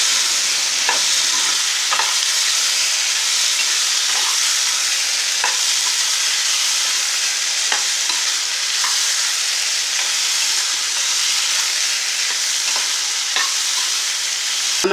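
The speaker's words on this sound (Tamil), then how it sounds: "நல்லா கிண்டி விட்டு" Beetroot masala fries in a pan with a constant loud sizzle, while a spoon stirs through it and scrapes the pan in a few faint, irregular knocks. No one speaks.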